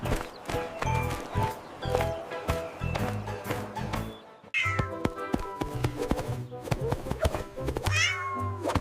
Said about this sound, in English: The cat catches rats and mice.